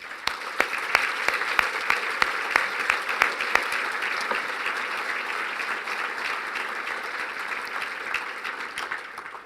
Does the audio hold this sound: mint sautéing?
no